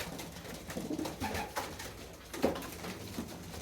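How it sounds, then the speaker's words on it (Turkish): Pet birds pecking at fresh wild radish leaves, with soft close pecking and rustling and a cooing pigeon or dove calling a few times through the short stretch. "8 Eylül 2022 kuşlarımız yabani turp yiyorlar."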